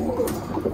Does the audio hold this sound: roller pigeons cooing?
yes